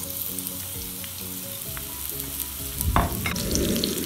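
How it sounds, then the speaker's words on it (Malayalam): Half an onion frying in hot oil in a pan as garnish for fish biryani, a steady sizzle and crackle that swells louder and harsher partway through, with a faint tonal hum beneath and no talk. "2 ഒനിയനെല്ലാം എടുത്ത് അതൊന്ന് പകുതി എടുത്ത് ഞാൻ ഗാർണിഷ് ചെയ്യാനായിട്ട് വറുത്ത് വെക്കുന്നുണ്ട്"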